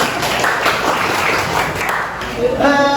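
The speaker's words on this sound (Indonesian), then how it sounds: "Oke, tepuk tangan dulu teman" Sustained applause from a group of friends, a dense steady clatter of many hands filling the whole stretch, with talk mixed in underneath toward the end.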